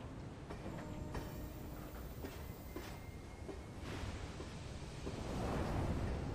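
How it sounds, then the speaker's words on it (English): A train in the video game Lost Planet rumbles in a dense, continuous roar with faint clanks and a rising rush of wind toward the end, loud and unbroken, with no voices. "Oh, time to get on the train."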